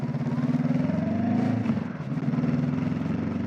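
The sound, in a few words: Honda NX500 motorcycle engine while riding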